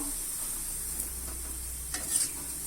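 Raw banana kola balls fry in hot oil over medium heat, giving a soft, steady sizzle with faint stirring clinks and occasional brief pops, quiet and close.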